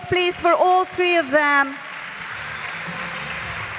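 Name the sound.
audience applause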